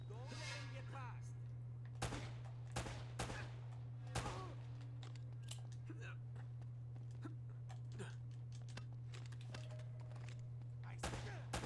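Gunfire in Uncharted: Drake's Fortune played on crushing difficulty, a handful of sharp separate shots spread through the stretch over a constant low hum, with someone talking at times.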